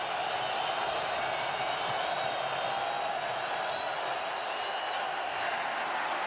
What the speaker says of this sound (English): Listen to the crowd on a 3rd and long for the Chargers.